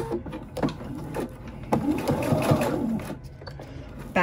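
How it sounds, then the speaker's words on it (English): Sewing machine stitching along the side of a fabric flat iron case, a steady mechanical whirring run that starts and stops in short bursts, close up with no talking. "Okay, here we are at the sewing machine, and we are going to start right here along the side."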